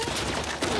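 Rapid gunfire in The Last of Us Part 2 video game, a dense, loud burst of overlapping shots lasting under a second, with a sharper crack near the end.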